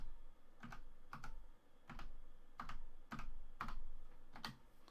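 Typing a login on a computer keyboard: soft, close key taps arriving in small clusters with short pauses between them, quiet and alone.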